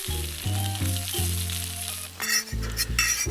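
Eggs and hash browns sizzle steadily in a carbon steel pan at a camp kitchen near Death Valley, with a low hum underneath and a brief metallic clink of a utensil near the end.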